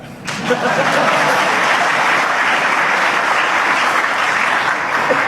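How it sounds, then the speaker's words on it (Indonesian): An audience at a public talk on Indonesian national affairs bursts into loud, sustained applause, dense steady clapping filling the whole stretch from a sudden start, with murmured voices faintly beneath. "Jadi silakan tepuk tangan."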